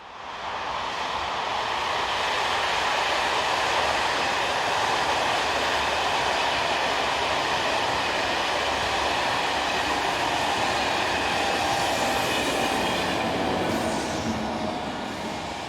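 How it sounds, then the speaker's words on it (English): A French passenger train from Lyon to Bourg-Saint-Maurice, with a class 22200 electric locomotive on the rear, rolls past in a steady, loud rumble of wheels and cars lasting throughout. "This is the 1750 from Lyon to Bourg-Saint-Maurice, with 22200 electric number 355 on the rear."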